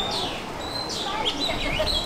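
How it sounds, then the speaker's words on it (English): Birds overhead in a walk-through bird exhibit chirp and tweet in quick, bright bursts against a busy background, with people talking nearby. "we're in some like bird exhibit where the birds are all around us"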